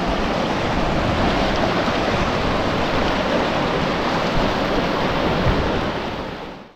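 A mountain stream on the Gomukh trek rushes steadily near a wooden bridge, a loud continuous broadband roar of flowing water heard close up with no voices, fading slightly at the very end.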